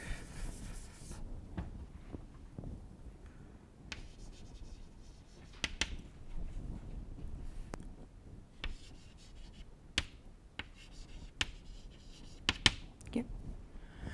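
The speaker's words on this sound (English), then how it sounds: "so let me write it." Pen or marker writing on a board while working through a quasi-compactness proof in the Zariski topology, with scratchy strokes and taps in irregular bursts, close and fairly quiet against a faint room hum.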